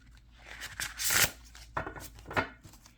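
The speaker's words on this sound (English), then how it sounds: "once this deck is broken in, it's going to shuffle nicely" A new tarot deck with somewhat stiff cardstock being shuffled by hand, giving a few quick riffling bursts and soft card slaps up close, each lasting a fraction of a second, with no talking.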